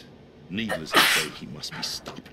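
A single sharp sneeze from a character in the video game Metal Gear Solid 2. It comes right after a short spoken line, and talk continues after it.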